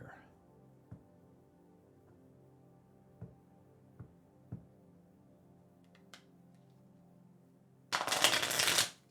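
Tarot cards riffle-shuffled near the end, a short dense burst of shuffling lasting about a second after a few soft isolated taps and handling sounds over a quiet background hum.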